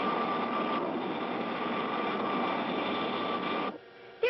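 Rocket ship engine in a 1959 cartoon, a steady broad roaring rush held loud and unbroken for several seconds before cutting out abruptly at the end, with no voices over it.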